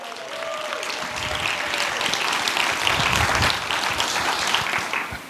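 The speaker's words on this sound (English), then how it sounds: "I'd like to give a round of applause to John Adams and Reggie Scott" A crowd at a sheriff's citizens' academy graduation breaks into a full round of applause, a thick, even rush of many hands clapping that swells slightly and carries on for several seconds.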